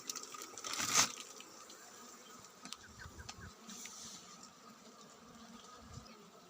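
Bees buzz faintly around a hive holding a huge swarm, with scattered close passes and light rustling of frames being handled.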